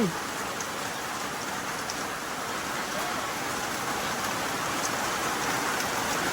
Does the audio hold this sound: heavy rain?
yes